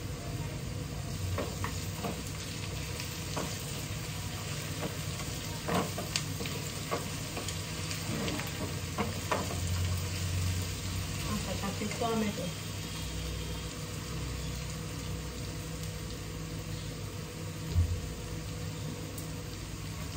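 Ginger garlic paste frying and being stirred in a pan, a steady sizzle with scraping stir strokes throughout, close by, with faint background noise.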